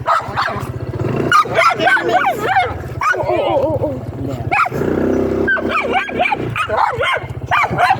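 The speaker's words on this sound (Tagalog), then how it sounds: "Yun yung aso namin, okay, nakagat yung buntot." A dog barks and yips repeatedly in short bursts, close by, mixed with people talking and the low engine rumble of a 2025 Honda Click 160 scooter.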